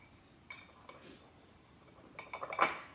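Garlic and onion seasoning gets a quick mix in a bowl, heard as faint clinks and scrapes of a utensil against the dish that build into a few louder knocks near the end. The sound is quiet and close.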